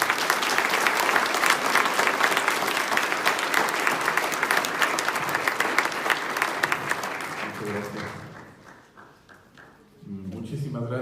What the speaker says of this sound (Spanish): Recibámoslo con un fuerte aplauso nuevamente,